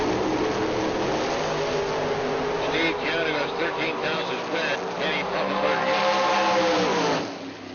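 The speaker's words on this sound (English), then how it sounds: "1976 Chevrolet Camaro, 511 cubic inch big block." A 1976 Chevrolet Camaro with a 511 cubic inch big block drag racing at the US Nationals, its engine roaring loudly and continuously with a rising pitch near the end before cutting off; a track announcer talks over it.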